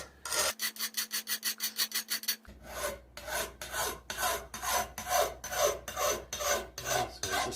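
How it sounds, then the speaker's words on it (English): Metal file rasping burrs off a Stihl 260 chainsaw bar in quick repeated strokes, a fast series at first then slower, firmer passes, close and alone without talk. "But you should take any burrs that you feel along there. You should get rid of them."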